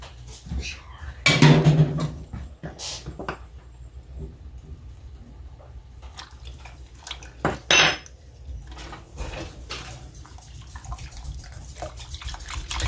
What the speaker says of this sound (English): you see how I whisk all that cornstarch